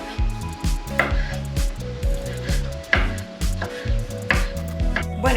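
Small pieces of pork loin frying in a pan, with a steady sizzle under repeated clattering scrapes and knocks, loud and close, under busy background music.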